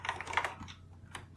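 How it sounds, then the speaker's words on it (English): A short burst of typing on a TRS-80 computer keyboard, a command being entered: a handful of quick, close keystrokes at low volume with no talking. "what I want to do is just type backup and see what that does"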